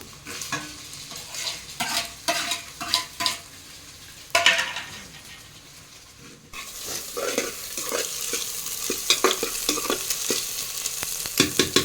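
Onion and tomato sizzle steadily in a pan while being stirred for fried rice, with repeated close scraping strokes of a spoon against the pan over continuous frying hiss; no one speaks.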